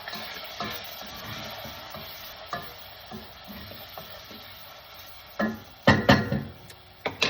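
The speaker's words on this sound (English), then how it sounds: "Next, I'm going to add the white ground pepper and the paprika. Mix that up." White ground pepper and paprika being stirred into rice with baby clams, a soft frying sizzle under scraping strokes of a utensil that grow louder and more clattery toward the end.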